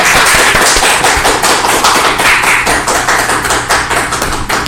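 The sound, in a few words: audience applause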